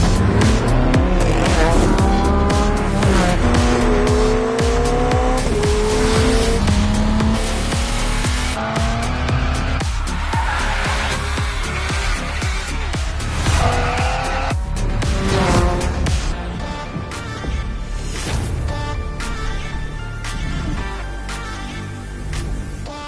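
A BMW being driven hard roars loudly as the engine revs up and down through gears, its tires squealing and skidding repeatedly in long, close screeches.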